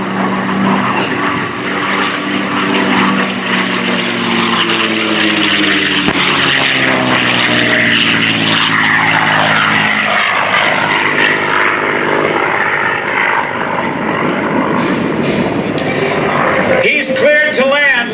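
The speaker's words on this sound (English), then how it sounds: "the P-51 Mustang known as Quicksilver" A P-51 Mustang propeller fighter plane roars overhead at an airshow, its engine pitch sweeping downward as it passes and fades, then crowd noise and clapping rise at the end.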